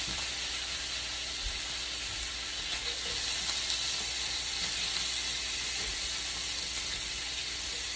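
Onion sizzling and frying in a pan for meat patties in gravy, a steady close hiss and crackle holding at an even level throughout, with no talking.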